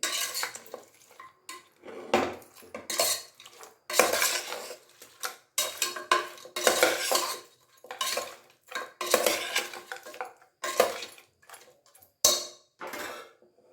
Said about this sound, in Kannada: ಅರ್ಶಿನದ ಪುಡಿ ಉಪ್ಪು ಚೆನ್ನಾಗಿ ಮಿಕ್ಸ್ ಆಗೋ ತನಕ ಈ ರೀತಿ ಮಿಕ್ಸ್ ಆಗೋ ಥರ ಈ ರೀತಿ ಟರ್ನ್ ಮಾಡ್ಕೊಂಬಿಡೋಣ